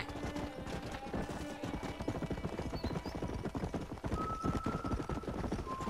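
Horse hooves clip-clop in a steady rhythm in the Western video game Red Dead Redemption, loud and close, with a whinny and other game ambience layered over the footfalls.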